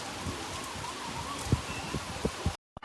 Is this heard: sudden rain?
yes